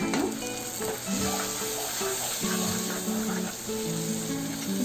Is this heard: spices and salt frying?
yes